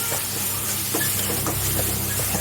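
Steady hiss of onions and tomatoes sizzling in hot oil, broad and continuous, with a few faint clinks and taps scattered through it.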